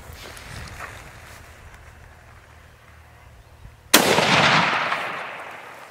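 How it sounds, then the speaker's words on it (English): A single rifle shot cracks out loud and close during a Monteria driven hunt for stag, cutting through quiet outdoor ambience and trailing off in a long rolling echo. "The shot runs true, felling the stag where he stands"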